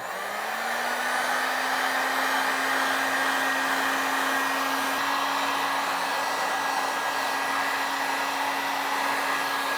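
A heat gun running on its low setting shrinks heat shrink tubing over a crimped cable lug, producing a loud, steady airy roar with a constant tone throughout, heard alone up close.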